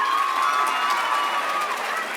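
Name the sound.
audience applause and cheering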